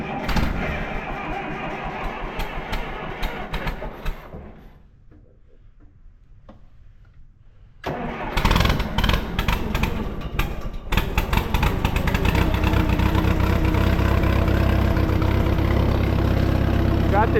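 Allis-Chalmers tractor engine with a dead battery is cranked on choke, goes quiet, then catches at about eight seconds and settles into a loud, steady idle close by, with a brief rev before running evenly.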